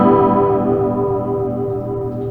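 Amplified instrument tone run through a slow wobbling modulation effect, a sustained harmonic-rich sound that swells and pulses with a warbling, slightly distorted echo, loud and steady without talk.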